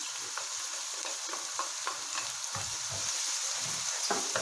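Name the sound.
white part of spring onions frying in pan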